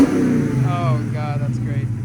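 A cammed, supercharged Dodge Charger Hellcat with headers and a Flowmaster 40 Series exhaust rumbles loudly nearby with a brief rev and faint supercharger whine, partly under excited talk.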